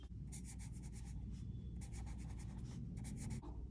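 Marker or chalk scratching across a classroom board in quick bursts of strokes, close and steady, with short pauses between words being written.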